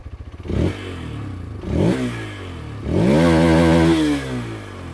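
A Hero Xtreme 160R 4V motorcycle engine idles with a rapid putter, then is revved three times, each rev rising and falling, close and loud.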